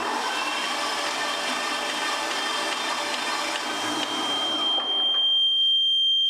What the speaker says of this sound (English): I'm going to set the lever and we're going to crank it over and see what happens.